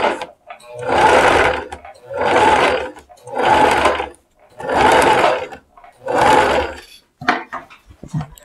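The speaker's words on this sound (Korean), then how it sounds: "대박음질로 한번 박아주고" A sewing machine backstitches through a woven-strap shoulder bag in five steady runs of about a second each, with brief pauses between, loud and close, followed by a few small handling clicks.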